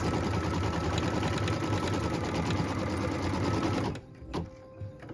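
An embroidery sewing machine stitches a placement line in a rapid, even mechanical whir, loud and close, then stops abruptly near the end, leaving a few faint clicks and handling sounds.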